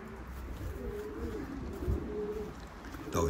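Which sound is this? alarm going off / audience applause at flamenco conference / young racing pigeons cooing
young racing pigeons cooing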